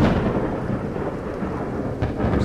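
Thunderstorm in the horror video game Underhell, a loud steady roar of rain with rolling thunder rumbling throughout and a sharper crack near the end, with no voices.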